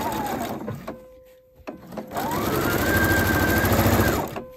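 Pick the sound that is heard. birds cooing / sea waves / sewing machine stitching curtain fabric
sewing machine stitching curtain fabric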